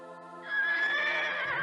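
A horse neighs once, a loud, close whinny that rises after a short lead-in and holds to the end, heard alone.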